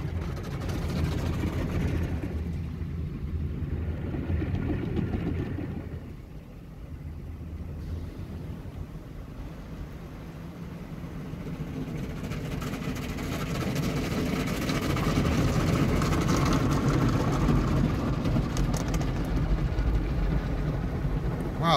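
Loud, steady mechanical roar and whoosh of automatic car wash machinery running around a car, a continuous drone with surging water and brush noise, heard from inside the vehicle with no talk.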